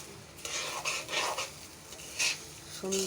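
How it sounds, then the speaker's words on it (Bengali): Soaked pulao rice stirred and fried in a pan, heard as a low sizzle under repeated scraping strokes of a utensil against the pan, with a brief tonal clink near the end. "এখন পোলাও চালটা আমি এখানে ছেড়ে দিচ্ছি। এটা ভালোভাবে নাড়াচাড়া করতে হবে"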